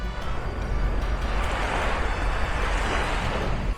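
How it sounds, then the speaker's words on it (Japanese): Ocean waves wash steadily onto Siloso Beach on Sentosa on a breezy morning, a continuous broad roar of surf mixed with wind noise, with no talk. "この波の音も結構癒されます。"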